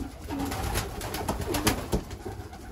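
Racing pigeons from a young-bird race team coo softly and repeatedly in a loft, with wingflaps and shuffling nearby and a steady background hum throughout.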